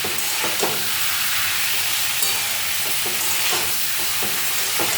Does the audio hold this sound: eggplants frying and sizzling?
yes